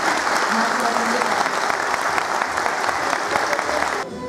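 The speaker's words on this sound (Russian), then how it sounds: "чтобы все аплодисменты зала прозвучали в честь нашего земляка" Dense, loud applause from a theatre audience at a festival, a sustained roar of clapping hands that fills the hall and then drops off abruptly near the end.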